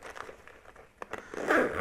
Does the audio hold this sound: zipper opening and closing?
yes